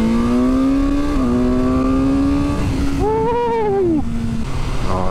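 A 2022 BMW S1000R naked motorcycle, fitted with a quick shifter and blipper, accelerates hard and close up. Its engine note climbs, drops briefly with each quick upshift, then rises again.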